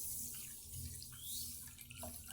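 Samo millet is soaked and washed in water in a home kitchen, producing quiet, faint splashing and trickling sounds with small drips.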